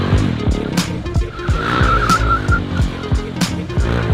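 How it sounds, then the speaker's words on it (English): A motorbike drifting with its rear tire sliding on the ground under added throttle, the engine revving hard beneath a steady high tire squeal, loud and close throughout. "you can lean and slide the bike on the floor"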